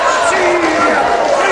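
Boxing crowd at a 1977 bout between Kung Fu Pete Roberts and Johnny Kincaid, a dense, steady roar of shouting and jeering voices filling the hall, loud and close, with no single voice standing out.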